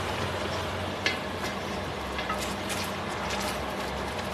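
Food is stirred in a pan during weekly meal prep, making a steady sizzle and hiss with faint scraping throughout and no speech.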